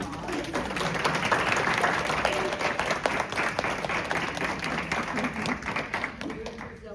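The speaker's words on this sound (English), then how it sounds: "Can we give them a round of applause?" Audience at a board of education meeting applauds after a child recites the pledge of allegiance, a steady round of clapping in a large room with some murmured voices mixed in.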